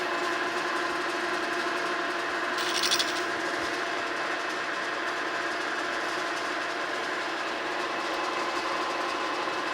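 A boring bar cuts steadily inside a broken, brazed casting on a W. F. & John Barnes treadle lathe, giving a continuous even whirring drone with a brief brighter scrape near the start and no voices.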